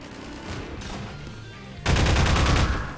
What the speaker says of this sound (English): Just gonna throw a grenade down there.